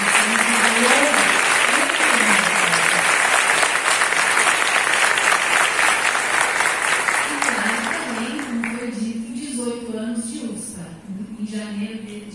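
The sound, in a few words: audience applause for the institution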